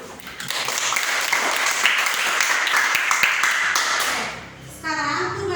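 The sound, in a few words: class of children clapping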